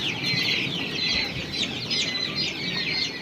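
Light Brahma chickens in a coop give a continuous chorus of clucking and chattering calls, close and busy, with soft rustling beneath and no speech.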